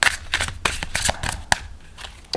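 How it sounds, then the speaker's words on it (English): A zombie-themed tarot card deck is riffled and shuffled by hand in quick, uneven bursts of crisp flapping and snapping card sounds, close up, with brief pauses between bursts. "Some of the cards stick together a little bit with shuffling."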